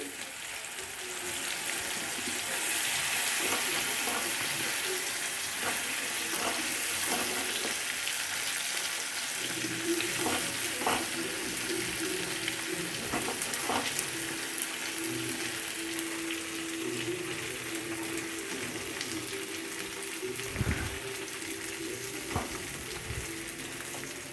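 Okra frying in a pan with ginger garlic paste, a steady loud sizzle with occasional scraping and stirring clatter throughout, no talk.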